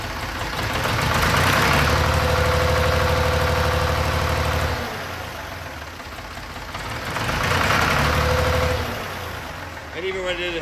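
Ford 4500 forklift engine running smoothly after an injector replacement, two swells of revving separated by a steadier idle, close and fairly loud with a low steady drone.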